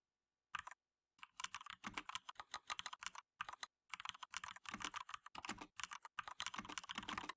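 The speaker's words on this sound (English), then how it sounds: "Louder keyboard noises." Computer keyboard typing comes in quick, uneven bursts of close, crisp key clicks, broken by short pauses and speeding into a denser run toward the end, with no voices over it.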